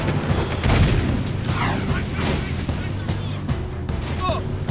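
Gunfire in the Jak 2 video game comes as dense, booming blasts layered over a constant rumbling game soundscape, a sustained loud barrage rather than isolated shots.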